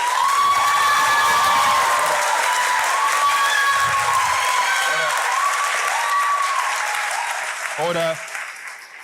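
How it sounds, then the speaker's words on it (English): Applause fills a legislative chamber, a loud, steady clatter of many hands with cheering mixed in, while a voice speaks over it near the end and calls for order. "Notice how many people are clapping."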